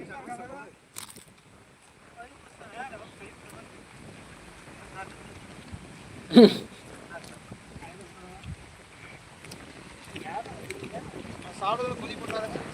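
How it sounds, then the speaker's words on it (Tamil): Steady wind rushing and buffeting the microphone outdoors, with a loud thump midway and faint voices speaking underneath. "இன்னைக்கு காற்று அடிச்சுட்டு இருக்கிறதுனால"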